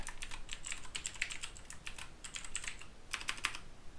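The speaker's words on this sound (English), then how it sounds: "If I can type it correctly" Rapid typing on a computer keyboard while entering code, with irregular bursts of clicking keys and brief pauses, close and fairly quiet, no voices.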